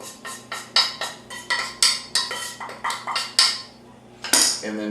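Metal utensils clinking and scraping against a pan while lifting sautéed bacon out, a rapid series of a dozen or so bright, close metallic taps and knocks in an irregular rhythm, with a short pause before a final clatter.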